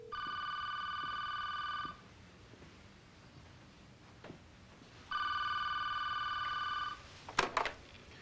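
A telephone rings twice, each long electronic trill lasting about two seconds with a pause between, followed by a brief rustle near the end; no talking.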